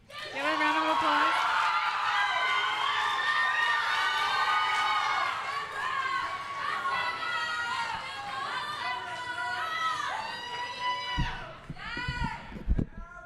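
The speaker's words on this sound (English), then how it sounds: "Give a round of applause." Applause and cheering from an audience at a high school poetry slam fill the room at steady strength, then thin into scattered claps and chatter near the end.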